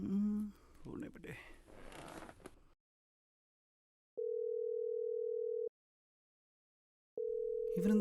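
An unanswered phone call gives long, steady ringback tones, two evenly spaced beeps after a stretch of rustling and voices, clear in otherwise silent gaps.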